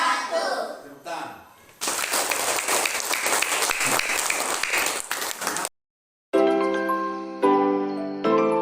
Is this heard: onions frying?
no